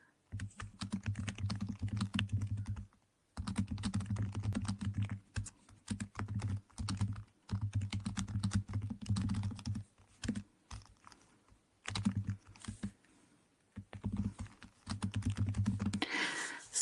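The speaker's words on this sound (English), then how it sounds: "I just type this out." Rapid typing on a computer keyboard, close and clear, in steady bursts of dense key clicks broken by short pauses, with no talking.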